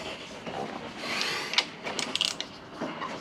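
Ratchet socket tightening a bolt on a Honda NC750X motorcycle stand, a series of close, crisp mechanical clicks and ratcheting ticks over faint background noise.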